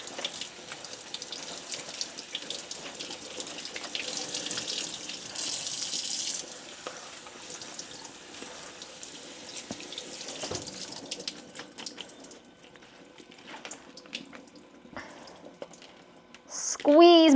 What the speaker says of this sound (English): we have to wash out the salt from the greens that we put salt in